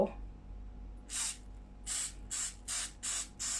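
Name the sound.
spraying cooking oil from a spray can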